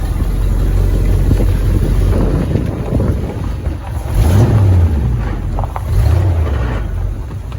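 A 1979 Chevy engine idles low and steady close by, a continuous deep rumble with slight swells, mixed with wind buffeting on the microphone; no one speaks.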